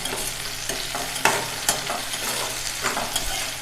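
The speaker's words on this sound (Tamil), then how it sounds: "நான் வந்து இந்த கத்திரிக்காய் தான் எடுத்திருக்கேன். இப்போ இது வந்து நல்லா வதக்கி விட்டுருவோம்." Eggplant sautés in a frying pan with a steady sizzle, while a utensil stirs and scrapes the pan in several distinct strokes, close and fairly loud, with no talking.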